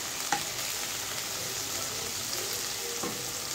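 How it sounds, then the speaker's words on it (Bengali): Shrimp sizzle and fry steadily in a pan with red spinach, with a couple of soft scraping stirs and clinks against the metal. "চিংড়ি মাছটা দিয়ে একটু নেড়ে চেড়ে নিব।"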